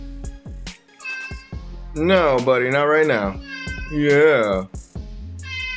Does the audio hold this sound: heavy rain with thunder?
no